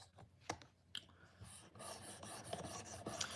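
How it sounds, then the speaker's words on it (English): Serrations of a knife being sharpened, short raspy filing strokes, a few separate scrapes at first and then a denser run of rubbing strokes, quiet and close, with no talking. "I'll try to sharpen that part of it too, the serrations or the saw blades."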